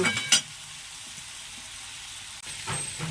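Garlic fries in a pan, a soft steady sizzle running underneath, with a brief clatter at the start and a scrape near the end.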